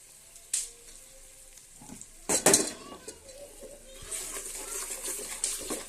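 Paste hits a hot pan for chicken gongura curry: a few sharp clanks of utensils, then a steady, soft sizzle that grows and continues, with no talking.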